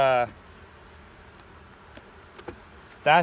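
Bees hum softly inside an opened beehive during a hive inspection, a low steady buzz. Brief louder bursts mark the start and end, and faint clicks and taps come through in between.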